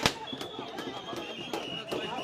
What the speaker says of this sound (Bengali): সাউন্ড গ্রেনেড নিক্ষেপ করা হয়েছে কয়েক দফায়